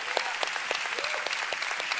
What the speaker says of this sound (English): let's give the Lord a big clap